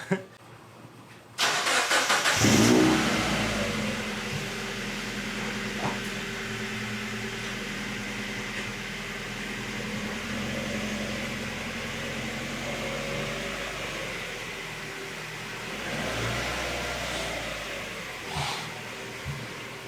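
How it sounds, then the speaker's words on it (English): A car engine starts up close by and keeps running at a steady rumble, with no one speaking. "I'm gonna go put my car back in its parking spot"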